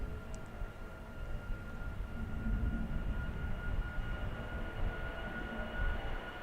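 An Airbus A340 bound for Paramaribo taking off from runway 36L at Amsterdam Schiphol, a deep, steady engine roar heard from a distance that builds slightly and holds.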